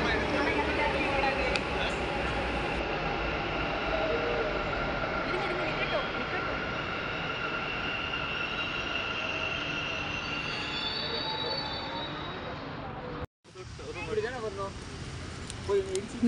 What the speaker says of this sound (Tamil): நம்ம மெட்ரோ ட்ரெயின் வந்துடுச்சு.